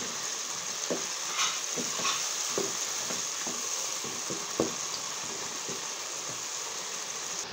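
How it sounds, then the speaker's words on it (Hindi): Yogurt is stirred into a chicken marinade, with wet, squelching scrapes and taps of a spoon in an irregular rhythm over a steady background hiss. "अब इसे अच्छी तरह से कर देंगे मिक्स"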